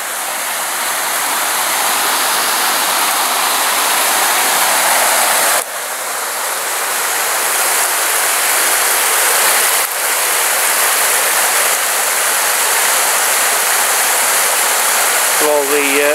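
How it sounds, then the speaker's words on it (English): A waterfall swollen with water after recent rain roars steadily and loudly throughout, a dense broadband rush with no letup, close at hand. "Plenty of water in that waterfall, isn't there?"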